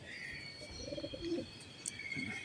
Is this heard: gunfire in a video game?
no